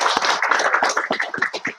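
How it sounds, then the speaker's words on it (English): Audience applause at the opening session of an international law conference, a dense spread of hand claps with irregular sharper smacks, close and steady throughout, with no talking. "Give applause to the three presenters."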